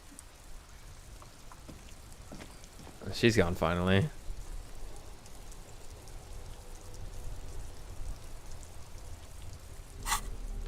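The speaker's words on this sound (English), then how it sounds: "Well, it's raining." Rain falls in the video game Disco Elysium as a steady, soft hiss that runs through the whole stretch, with a brief spoken line over it partway through.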